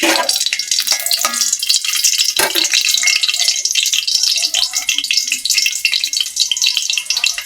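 Three dried red chillies fry in hot oil in a wok while tempering lentil dal, giving a close, bright crackling sizzle with scattered pops and the occasional scrape of stirring.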